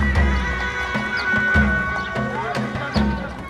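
Horses near the Great Pyramid at Giza neigh and whinny while hooves clop on hard ground, a loud, busy and close mix with a steady murmur underneath.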